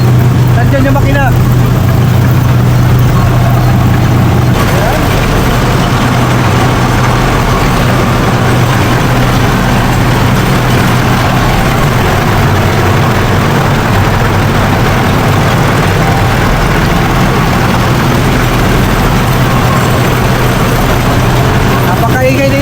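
Shredder machine grinding organic chicken feed, a loud, constant low mechanical roar that fills the whole stretch without letup, with a voice talking over it early on.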